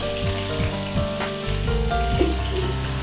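Chili peppers being stir-fried in a hot wok, a steady close sizzle running through the clip with scattered pops and clatters from the pan.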